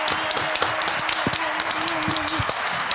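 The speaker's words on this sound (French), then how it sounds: "On peut applaudir Caroline." In a radio studio, a small audience claps for a guest named Caroline: quick, scattered hand claps near the microphone, with a rising whoop or cheer over them.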